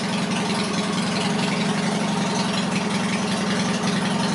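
A Yamaha XS650 motorcycle engine idles at about 1100 rpm, a loud, close, steady low chugging throb with an even pulsing rhythm throughout.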